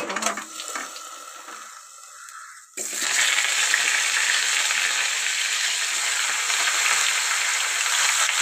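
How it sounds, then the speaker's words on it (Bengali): Bottle gourd greens and vegetables dropped into hot oil with five-spice seeds, a sudden loud, steady sizzle that starts after a brief quieter crackle and holds close and continuous. "এবার তেলের মধ্যে পাঁচফোড়ন দেবো, দিয়ে সবজিগুলো দিয়ে দেবো।"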